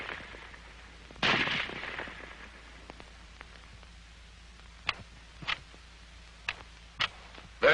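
An M1 Garand semi-automatic rifle fires several sharp, distant-sounding cracks at uneven intervals, following a louder burst early on, with a faint hiss in the background.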